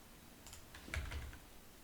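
A few soft, quiet keystrokes on a computer keyboard clustered within about a second, faint over a low background hum.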